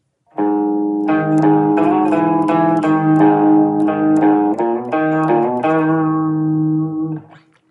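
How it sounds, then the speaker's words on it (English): A clean electric guitar plays a short melodic phrase of picked notes with light overdrive and a touch of reverb, each note ringing into the next. "a little bit of reverb, and that gives me the main tone for the guitar."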